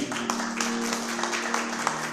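Congregation applauding during a Spanish-language church service, a continuous moderate wash of clapping over a steady low hum, fairly distant and even throughout.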